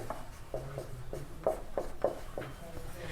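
Chalk or pen writes out a linear equation on a board during a maths lesson, producing a run of short scratchy strokes in an uneven rhythm, close and moderately loud, with no talk over it.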